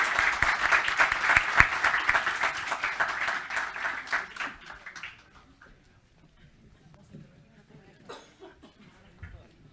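A conference audience at a Catholic congress applauds in a dense burst that tapers off after about five seconds, leaving scattered claps, coughs and throat clearing in a quiet hall.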